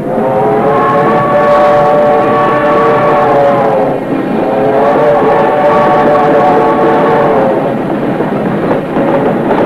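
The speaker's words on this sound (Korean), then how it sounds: "오직 살아야 한다는 한 가닥 몸부림 속에 기차는 떠나갔습니다." A refugee train pulls away from the station, carried by a loud, sustained wailing whistle in long drawn-out blasts that dip briefly in the middle before resuming, steady and close.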